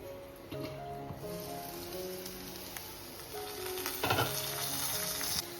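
Kantoli (spiny gourd) frying in a covered pan, giving a steady, dense sizzle with crackling pops throughout and a brief louder burst near the end, with no voices.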